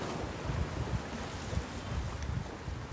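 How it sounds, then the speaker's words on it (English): Steady wash of ocean waves on the coast in Israel, with a constant low rumble and wind buffeting the microphone, no voices. "not as loud today with the waves"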